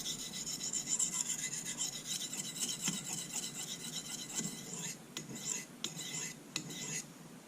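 Kitchen knife drawn repeatedly across a soft Arkansas whetstone, a close, steady rhythmic scraping and rasping with a few sharper strokes near the end.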